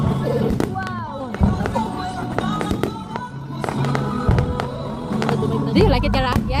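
Fireworks pop and crackle in repeated sharp bursts through a night display, some near and loud, while adults and children talk and exclaim over them.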